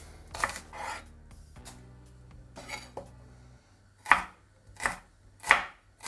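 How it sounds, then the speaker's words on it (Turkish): Onion is chopped with a knife on a board, a few sharp, separate close chops with short pauses between them and no talking. "Bir orta boy soğan. Şöyle piyazlık şekilde doğruyorum."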